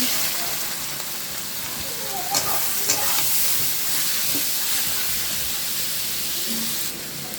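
Leafy greens stir-fried with browned garlic and dried red chili sizzle loudly and steadily in a hot pan, with a few scraping stirs of a spatula breaking through the continuous hiss.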